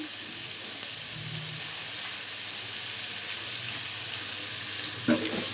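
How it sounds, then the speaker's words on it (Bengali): Onions and chilies frying gently in oil in a home kitchen give off a steady, even sizzle throughout, with a brief clatter of utensils near the end. "আমি এই যে একটু তেল দিয়ে দিলাম, পেঁয়াজ মরিচ আস্তে আস্তে ভেজে নিই"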